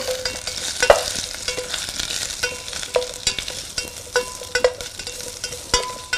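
Carrots fry with garlic in a pan, a soft steady sizzle broken by repeated sharp clinks and scrapes of a utensil stirring against the metal.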